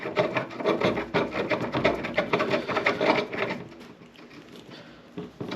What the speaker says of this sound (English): then you take your handle and you just place it in there and screw it in